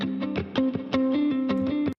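Electric guitar panned hard left with its effect bypassed, chugging rhythmic chords in short repeated bursts with a dry, slightly overdriven tone, stopping abruptly.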